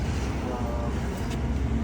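On a road in India, a vehicle rumbles past close by, producing a loud, continuous low engine and road roar that lasts the whole brief moment.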